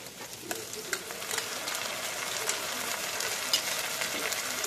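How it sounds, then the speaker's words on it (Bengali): Ginger-garlic paste frying with browned onions in a pan for chicken kosha, a steady soft sizzle with faint stirring scrapes, close and fairly quiet. "এবার এখানে আমি অ্যাড করবো আমার আদা রসুন বাটাটা"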